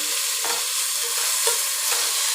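Onion and tomato sauté in a pan for green peas pulao, with a steady sizzle broken by a few scraping stirs of a spoon, close and fairly loud with no voices.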